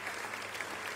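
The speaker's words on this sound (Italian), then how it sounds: "Eccoli gli applausi" A short burst of canned applause plays during a Farming Simulator 19 live stream. It is faint and steady, with no talk over it.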